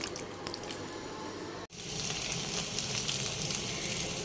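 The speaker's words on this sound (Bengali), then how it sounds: "চিকেনগুলো ভেজে নিচ্ছি।" Marinated chicken frying in oil, a soft, steady sizzle and crackle that drops out for a moment, then returns brighter and hissier, faint and continuous throughout.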